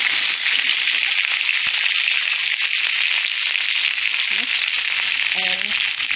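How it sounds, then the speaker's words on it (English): Szechuan chicken and prawns sizzle loudly and continuously in a hot frying pan while being stirred, with a steady crackling hiss and a few faint scrapes of the utensil. "give it a stir. Mix it up, stir and stir. Stir and stir."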